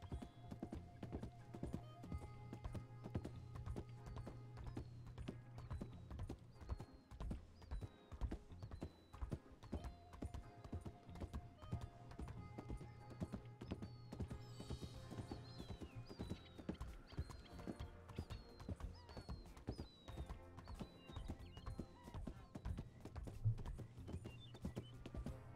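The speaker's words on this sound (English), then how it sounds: "don't want to cross the bridge. Yeah, we're already here anyways. Just hope Hoof doesn't get stuck between the boards." Horse hooves clop steadily across wooden bridge boards in a western video game, a dense rhythmic run of hollow knocks with occasional whinnies, heard up close for a long stretch with no talk.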